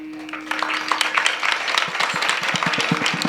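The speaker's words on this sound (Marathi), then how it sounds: "टाळी वाजवायची तर जोरात वाजवा बरं का." A kirtan audience claps together, the applause starting after a brief sustained tone and building into a steady, fairly loud patter of many hands close by.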